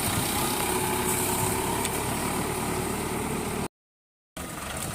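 Tractor-driven Sakti Kissan reaper binder runs with a steady, loud engine drone and mechanical clatter, continuous and close, then cuts out abruptly for a moment before resuming.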